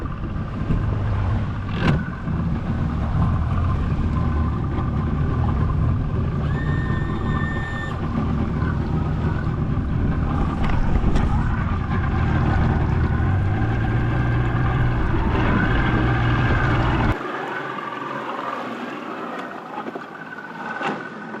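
A boat motor runs steadily with a low drone as the boat gets underway on a bayou, loud and continuous, then cuts to a quieter hum near the end.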